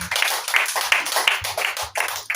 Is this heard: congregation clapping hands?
yes